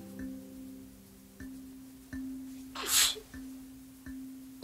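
A short burst of sneeze in the Grey's Anatomy video game, landing once near the middle over a steady hum of background game music with soft periodic tones.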